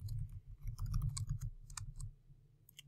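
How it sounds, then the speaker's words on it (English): Quick bursts of keystrokes tap on a computer keyboard while a spreadsheet formula is typed, irregular clicks clustered closely, then thinning toward the end, near and moderately quiet with no speech. "We're going to type in iferror"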